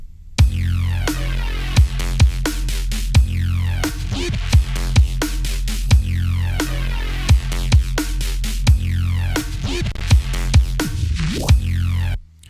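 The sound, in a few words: electronic bassline made entirely in MIDI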